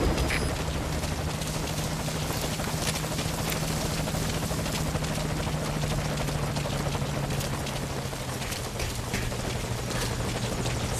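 The Morpho transport helicopter from the video game Metal Gear Solid V arrives with steady, loud rotor thumping and heavy broadband wash that continues unbroken throughout.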